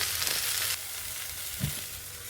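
Cluster beans frying in a pan for a masala gravy, a steady hissing sizzle with a faint stir or clink partway through, fairly close and with no one talking.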